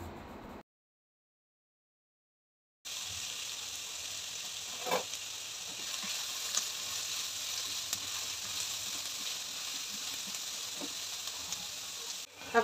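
Onions with ginger paste and salt sauté in a pan, cooking for egg tikka masala. After a short silence, a steady close sizzle starts and holds, with occasional faint stirring knocks and no voices.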